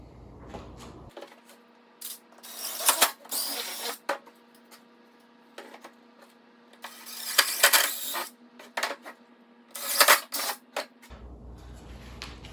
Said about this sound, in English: I'm just going to go ahead and drill those real quick